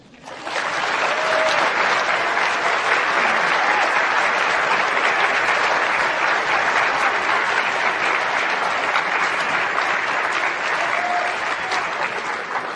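Loud, dense audience applause at the opening session of the AOHC 2016 conference, a steady roar of many hands clapping that carries on without a break.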